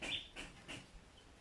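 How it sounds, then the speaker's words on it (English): A few faint, high bird chirps sound at a distance in a quiet outdoor setting, spaced a little apart. "I hope that you hear the birds are chirping"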